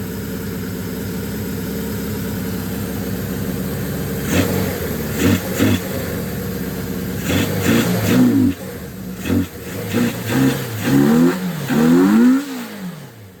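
A Suzuki GS550 motorcycle engine with overly long fuel lines idles high and steady up close, then surges through several uneven revs and blips toward the end.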